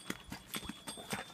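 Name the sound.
horse hooves walking on uphill trail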